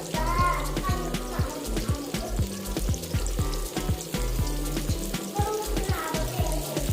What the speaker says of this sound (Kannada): ಚೆನ್ನಾಗಿ ಫ್ರೈ ಮಾಡ್ಕೊಳ್ಳೋಣ, ಕಲರ್ ಚೇಂಜ್ ಆಗಬೇಕು